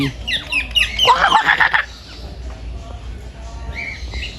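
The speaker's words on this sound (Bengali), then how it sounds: "টিয়া পাখি" Parrots at the national zoo in Mirpur squawk loudly and harshly in a dense burst of overlapping calls, then quieter chatter follows as people talk nearby.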